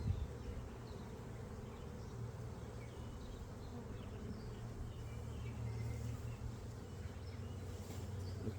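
Honey bees swarm around an opened hive, a dense, steady low buzz that fills the scene evenly and fairly quietly, with no talking.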